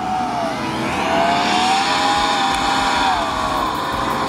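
Lada Niva off-road cars race in a trophy event, their engines blending into a loud, continuous, high-pitched drone that shifts slightly in pitch as they drive past at a distance.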